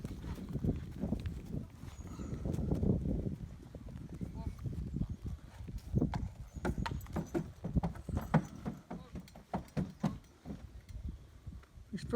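A horse ridden with a soft rubber bit walks over a bridge obstacle in an arena, its hooves giving slow, irregular clip-clop knocks close by while people talk over them.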